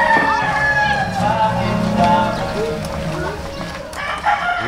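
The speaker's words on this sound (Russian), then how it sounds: "Петухи, курочки, все как надо." Several fighting roosters crow one after another while hens cluck around them near rice fields in the Philippines, with background chatter from people nearby.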